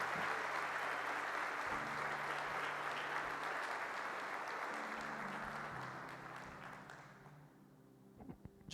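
A church congregation claps together during a worship service, a loud, sustained burst of applause with a faint low hum beneath it that thins and fades toward the end, leaving a few scattered claps.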